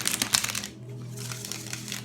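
A deck of tarot cards being shuffled nearby, with a crisp riffling flutter for about a second, a short pause, then softer continued shuffling.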